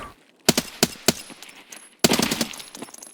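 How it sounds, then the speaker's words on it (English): Bursts of automatic enemy gunfire in Tarkov, a few spaced shots and then a rapid volley, loud and sharp with no talk over them. "He likes switching fire modes a lot."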